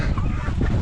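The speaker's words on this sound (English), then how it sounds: "There's another hen remained here and it has not eaten." A hen clucks close by in a village farmyard, low, steady clucking that runs for under a second with no one speaking.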